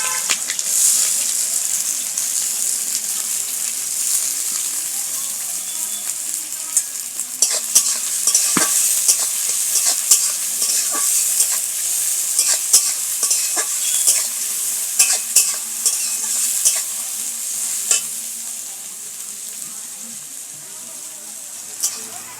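Chopped onions fry with a bright, continuous sizzle in a pan for a chicken bhuna, and a run of stirring scrapes and clacks joins in partway through, all close and unbroken by speech.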